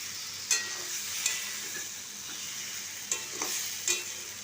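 Ridge gourd and potato pieces stir-fried with a finely ground paste in a pan, giving a soft steady sizzle broken by a few scraping stirs.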